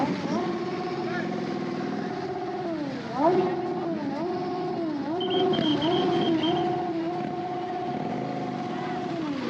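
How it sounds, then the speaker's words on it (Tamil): Superbike engines rev and blip repeatedly at a crowded India Bike Week show, with rising and falling throttle sweeps, moderately loud and steady, under nearby talk. "சூப்பர் பைக்ஸ்லாம் சும்மா தெறிக்க விட்டுட்டு இருக்கு"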